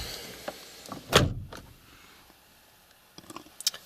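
A door on a 1997 Mercedes-Benz C220D W202 slams shut once, a sharp solid thud against quiet background, followed by faint clicks and small handling noises.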